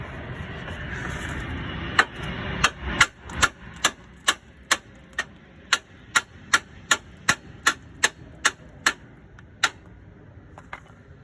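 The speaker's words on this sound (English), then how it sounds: "give it a few bangs with the hammer to open it up" A hammer repeatedly strikes a steel chisel driven into a Ford Fiesta MK7 lower wishbone, about twenty sharp metallic bangs in a fairly regular rhythm, close and distinct over a quiet workshop background.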